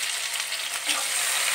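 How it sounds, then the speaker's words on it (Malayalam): Chopped tomatoes sauté with okra in a pan for a Kerala Onam sadya sambar, giving a steady, close, even sizzle of frying throughout with no voices. "ഇനി ഇതിലേക്ക് ഞാൻ 2 തക്കാളി അരിഞ്ഞത് ചേർത്ത് കൊടുക്കുകയാണ്."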